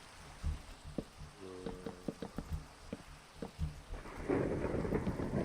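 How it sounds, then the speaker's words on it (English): Thunderstorm with rain in the Minecraft video game: low rumbling thunder and scattered thuds, then rain swelling to a steady hiss near the end. "Don't mind that it's a thunderstorm."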